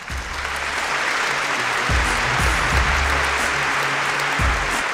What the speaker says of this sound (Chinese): 就让我们接下来掌声有请